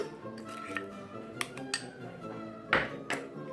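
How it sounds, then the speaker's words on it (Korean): Garlic butter spread for garlic baguette is mixed in a bowl, with quick clinks and scrapes of a utensil against the bowl and a soft squishy churn beneath, close and unvoiced. "그리고 열심히 섞어줍니다."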